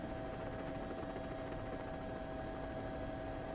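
A helicopter hovers above a WRC rally stage in Croatia in 2023, its steady rotor whir and engine whine faint and distant throughout.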